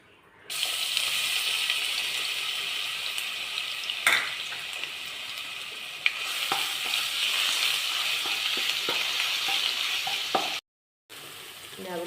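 Ginger and garlic dropped into hot oil for a sardine biriyani, sizzling loudly and steadily throughout, with a few clinks of a spoon stirring the pan.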